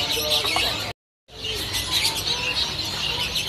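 A young cipoh bird chirps with quick, repeated high tweets at a bird-selling kiosk, heard close and fairly loud over shop background noise, with a brief silent gap partway through.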